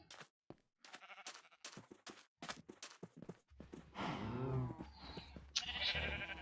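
Sheep in the Minecraft video game bleat in several short, wavering calls that grow louder and denser toward the end, with brief gaps between the early bleats.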